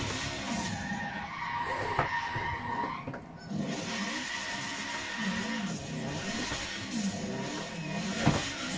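Car skidding through a handbrake turn, a long loud tire squeal and scrub over a running engine, continuous for several seconds with a brief dip midway.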